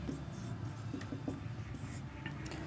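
Chalk or marker writing on a classroom board during a Hindi maths lesson on square roots, heard as soft, scratchy strokes in short bursts over a steady room background.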